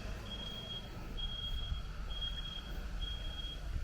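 A FedEx truck reverses on a Brooklyn street, sounding four evenly spaced high backup beeps. The beeps are faint and somewhat distant, heard over a low engine and street rumble.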